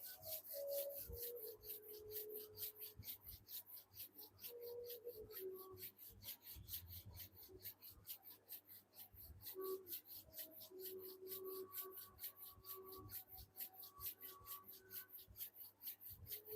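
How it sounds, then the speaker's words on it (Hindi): Palms of both hands rub together briskly in a steady, rapid back-and-forth rasp, soft and close, continuing throughout in a calm setting. "दोनों हाथों को आपस में घर्षण कीजिए"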